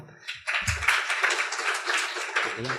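Seminar audience on Thailand's semiconductor industry applauds after an opening address, a short burst of clapping that starts after a brief pause, with a voice heard at the start and again at the end.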